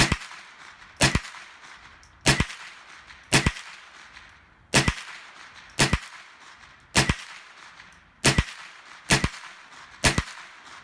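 Ten sharp .22LR rifle shots crack out one by one at an even pace on a 25-yard range, each loud and close with a short echo tail.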